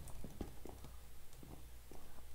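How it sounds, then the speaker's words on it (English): Footsteps from the Minecraft Bedwars video game sound as a few faint, uneven thuds close by, set against low background noise. "Oh, I heard footsteps."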